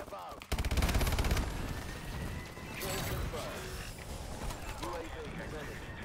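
Gunfire in a Call of Duty multiplayer match crackles in rapid automatic bursts and scattered shots, loudest early on, mixed with game effects and a voice talking over it.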